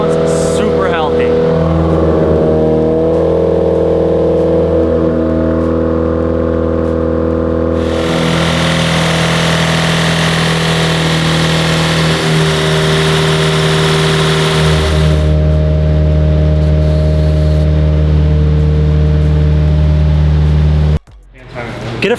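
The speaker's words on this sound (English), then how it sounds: "We're gonna get this thing on the dyno. We're gonna let it idle." A Subaru WRX with a fully built IAG engine idles on a dyno with a steady, loud, close rumble. The pitch rises in the middle as the engine runs at higher revs, then it settles back before cutting off at the end.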